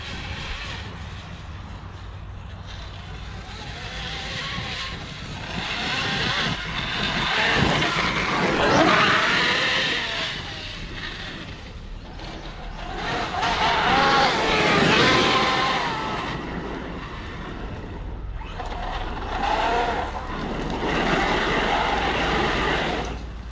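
An Arrma Kraton 8S RC car with a Dynamite 1200KV motor drives on sand. Its whining motor swells and fades in repeated surges as it speeds past and slides, with voices faintly present at times.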